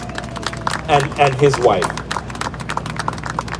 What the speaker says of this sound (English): A round of applause for Ambassador Amayo